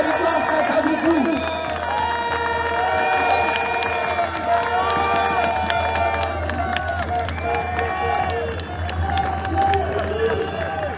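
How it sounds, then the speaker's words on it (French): Crowd at a street demonstration in Mulhouse cheering and clapping, with shouting voices and chatter over steady applause, lively and continuous throughout. "continuez de les applaudir, continuez de les soutenir"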